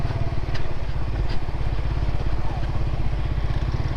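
A Suzuki motorcycle engine making an odd noise after a wheel change, a steady low mechanical chugging with a rapid regular pulse, close and fairly loud throughout with no talk.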